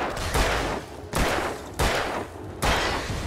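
Gunshots ring out in the video game Alan Wake, four loud, evenly spaced blasts about three-quarters of a second apart, each with a long booming decay.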